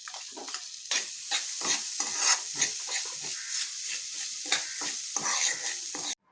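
Dry fruits and semolina fry in a pan while being stirred, producing sizzling bursts in repeated scraping strokes, close and steady, with no talk.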